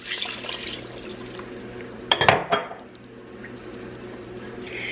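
A brief splash of water being poured into a crockpot rises out of quiet room tone, lasting about half a second.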